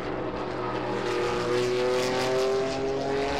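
Porsche 935 race car at the Rolex Monterey Motorsports Reunion, its engine a loud sustained roar with a steadily rising pitch as it powers along the track, swelling slightly in the middle, with no talking.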